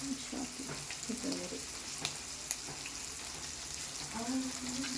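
Mutton pieces frying in a pan for mutton fried rice, a steady broadband sizzle with occasional clicks and stirring sounds, faint voices murmuring in the background.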